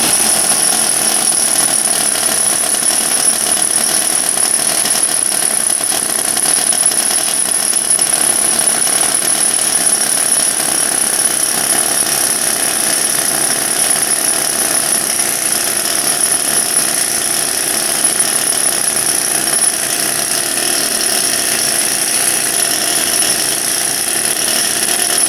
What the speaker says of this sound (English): It's an air chisel or an air hammer.